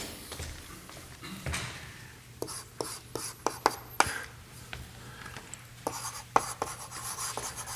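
Marker or chalk strokes on a lecture-hall board, a run of short scratchy taps and rubs in irregular bursts, close and fairly clear with no talking over them.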